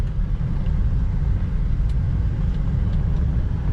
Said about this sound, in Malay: Tengok tak tengah engine ni main bunyi.